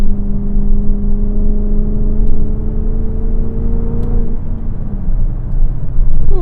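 A supercharged Dodge Magnum SRT-8 on air suspension drives through a corner, its engine droning steadily with a whine that slowly drops in pitch, heard from inside the car with constant road rumble.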